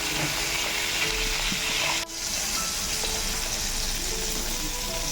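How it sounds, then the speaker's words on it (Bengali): Small pond crabs fry in hot oil, giving a loud, steady sizzle that continues throughout with a brief dip midway and faint stirring clinks. "এই কাঁকড়া ভাজা তেলের মধ্যে আমি আরও একটু তেল দিয়ে দিচ্ছি"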